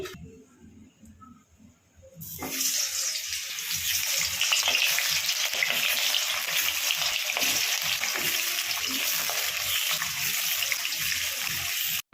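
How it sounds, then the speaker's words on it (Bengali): Potatoes dropped into hot oil in a pan burst into a loud, dense, continuous sizzle that starts abruptly after a quiet moment and keeps up steadily, with faint stirring underneath. "তারপরে দেখো আমি আলুগুলো তেলে ছেড়ে দিলাম"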